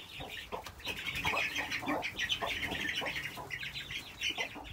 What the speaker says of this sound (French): Ils sont très vigousses, les poussins.